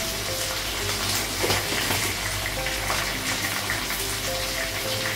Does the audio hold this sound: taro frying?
yes